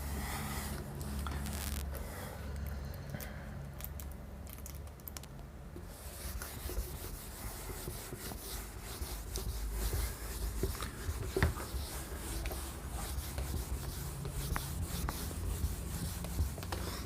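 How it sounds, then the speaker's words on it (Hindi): A classroom whiteboard is rubbed clean with steady, continuous scrubbing strokes that carry on at moderate level throughout, with no talking over it. "रब कर लेते हैं पहले।"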